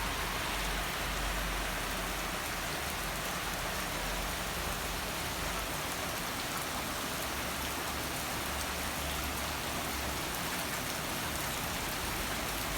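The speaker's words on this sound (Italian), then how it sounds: "Ammazza quanto piove." Heavy late-August thunderstorm rain in Sardinia pours down in a dense, even hiss that stays constant throughout, with no talk or other distinct sounds.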